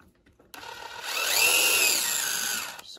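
A power drill fitted with a bit backs a screw out of an RC buggy, a Wltoys 144001 1/14 scale model, in one steady whirring run of about two seconds after a short quiet lead-in, close and loud.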